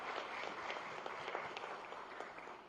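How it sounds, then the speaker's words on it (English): A round of applause at a corporate agreement-signing event in Gandhinagar, a soft, even patter of many hands clapping at a distance, faint but continuous throughout. "Please welcome with a round of applause"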